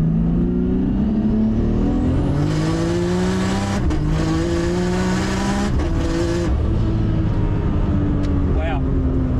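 A 1000HP R33 Skyline GTR with traction control set to 5% slip accelerates hard in the same gear, its engine note climbing in loud rising sweeps with brief gear-like dips, while voices talk over it.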